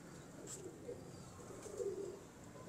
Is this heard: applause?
no